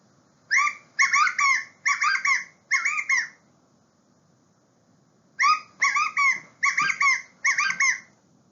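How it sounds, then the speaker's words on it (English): California quail, a small ground-nesting bird, give two bursts of repeated calls, each a run of four loud, clear, chirping notes separated by a few seconds of quiet. "The California quail is our state bird and is also a common ground nesting bird in the county"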